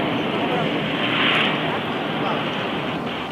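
Air show jets pulling up over Chennai Marina, a loud, steady roar of jet engines swelling and fading slightly, with a voice speaking over the noise.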